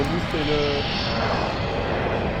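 A loud, steady roar of a private jet's engine at a Las Vegas airfield fills the background while a voice talks over it.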